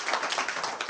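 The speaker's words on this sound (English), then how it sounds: "Let's have a round of applause for him." A brief burst of audience clapping from a lecture crowd, dense and even, with no talk over it.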